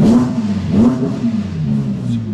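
An Audi R8 Coupé V10 performance quattro engine revs steadily in performance mode with a low, throaty drone, rising briefly in pitch a couple of times, close and loud throughout.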